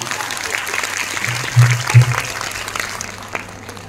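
A short burst of audience clapping breaks out at a women's Mangalagaur festival competition in Thane, fairly loud and brief, with voices and some music mixed underneath.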